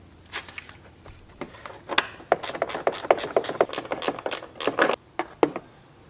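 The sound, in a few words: removing the screws that hold a car's mesh grill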